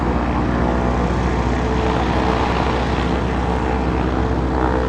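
A light propeller airplane engine runs up at 1800 RPM before a first solo flight, a loud, steady, droning roar heard close inside the cockpit.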